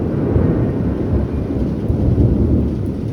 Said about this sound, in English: Oh my God, it's actually hailing.